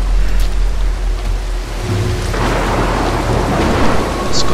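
A loud thunderstorm in the stealth video game Mark of the Ninja: steady heavy rain pours throughout while a deep rolling rumble of thunder swells midway and keeps grumbling under the downpour.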